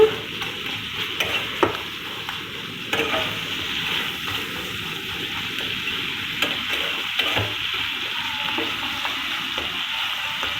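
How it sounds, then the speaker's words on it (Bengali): Prawns fry in a pan with a constant crackling sizzle, close and steady, broken by a few sharp clicks and scrapes of stirring. "এই চিংড়ি মাছগুলো একটু লাল লাল করে নিয়েছি যাতে যেন স্বাদটা একটু বেশি হয়"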